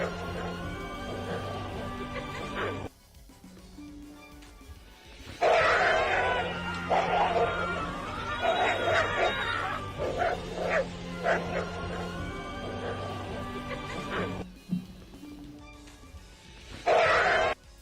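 A dog barks and yips as it plays, the short bursts rising above steady music and background noise across the scene.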